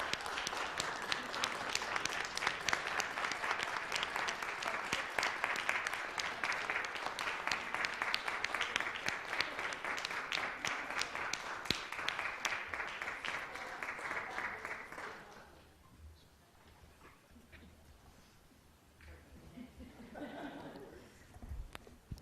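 Sustained applause from attendees at a town council meeting following a proclamation, with dense, steady clapping for about fifteen seconds before it stops abruptly, leaving quieter room sound and a brief voice.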